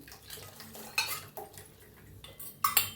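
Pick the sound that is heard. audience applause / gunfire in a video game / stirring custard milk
stirring custard milk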